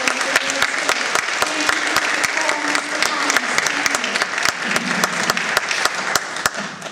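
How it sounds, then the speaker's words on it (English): A crowd at a city election candidates' event applauds steadily for several seconds, a dense wash of clapping with a few louder individual claps and some voices mixed in. "How about a round of applause for our candidates?"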